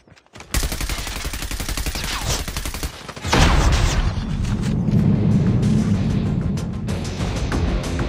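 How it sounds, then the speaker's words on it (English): Grenade explosion in Call of Duty Mobile: a loud deep boom at about three seconds with a rumbling low tail, following a few seconds of rapid in-game gunfire. "Grenade! Grenade out!"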